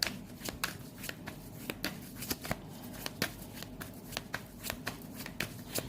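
Tarot cards being shuffled by hand, a run of quick papery riffles and soft flicks repeating steadily at close range with no talking.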